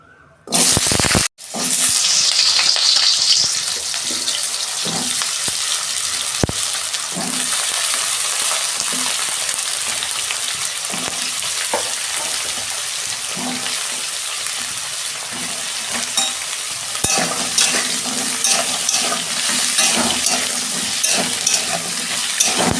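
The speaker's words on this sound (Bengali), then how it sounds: "তেল দিচ্ছি কড়াই, সবজিগুলো ভাজবো" Eggplant, carrot and potato sizzle and fry in hot oil in a wok, a loud steady crackling hiss that runs throughout after a brief initial burst, with occasional stirring clatter and no talk.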